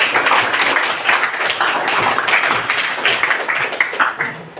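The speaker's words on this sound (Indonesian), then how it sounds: "Tepuk tangan untuk" Junior high school students in a classroom burst into dense, continuous clapping, a busy, fairly loud patter of many hands that rises and dips slightly for several seconds.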